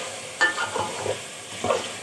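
Spice masala for palak chicken being stirred and fried in a pan, with a few scraping stirs and soft sizzling at close range, no voices present.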